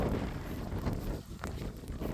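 Wind gusts outdoors in a countryside village, a continuous loud rumbling buffet against the microphone with no other clear sounds.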